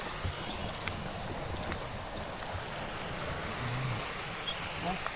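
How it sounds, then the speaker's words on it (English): A cicada calling in the Hunua Ranges forest in New Zealand, a steady high buzzing drone with a brief louder stretch early on, then continuing evenly under faint ambient forest sounds. "Oh, it's got a little cicada up here."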